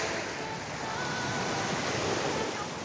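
Steady broadband roar of waves washing onto a shore, continuous and fairly loud with no clear breaks, a faint hint of wind mixed in.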